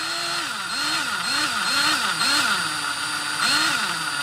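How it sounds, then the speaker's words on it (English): A power drill whines steadily, its pitch dipping and rising in repeated cycles as it bites into material, loud and close throughout. "If you go too fast, you'll burn out your drill."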